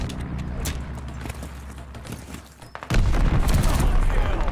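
A bombing run in a multiplayer shooter game erupts into heavy, continuous rumbling explosions that swell sharply halfway through, over a dense bed of battlefield gunfire and game noise.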